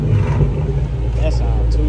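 A 2023 Dodge Challenger Scat Pack V8 fitted with Dynomax Race Bullets rumbles with a deep, loud exhaust tone, swelling briefly in a short rev.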